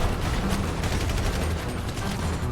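Rapid bursts of video game gunfire crackle continuously with booming explosions mixed in, a dense, loud barrage with no pauses, from GTA 5.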